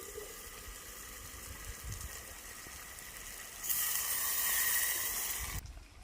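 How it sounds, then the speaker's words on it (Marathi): Hot water from a plate poured into a cooking pot of village-style mutton on a wood-fired stove, a continuous hissing splash that grows louder partway through, then stops abruptly, with no talking. "ताटातलं पाणी गरम झालंय तर हंडीमध्ये घालून घेऊया"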